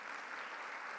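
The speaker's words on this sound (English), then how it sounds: "Let's give him a round of applause for all that work." Audience applause at an investment forum opening ceremony, a brief stretch of steady, faint massed clapping with no distinct individual claps.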